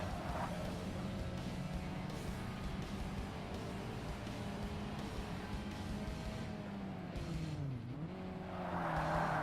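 Race car in the Forza Motorsport racing game on a Rio de Janeiro circuit, engine droning steadily with a pitch dip as tires squeal and slide through a corner, loud and continuous with no talk.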